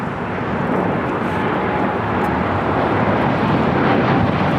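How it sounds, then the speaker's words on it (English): A Japan Airlines Boeing 787-9 takes off from LAX bound for Osaka, its loud, dense broadband engine roar rumbling steadily throughout with no voices. "Japan Airlines Flight 69 taking off to Osaka"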